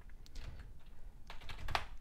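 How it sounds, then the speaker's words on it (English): Close keystrokes on a computer keyboard, a quick irregular burst of clicks with a cluster of sharper taps toward the end, no voices. "So while I'm typing this"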